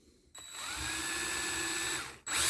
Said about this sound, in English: we're going to pre-drill this hole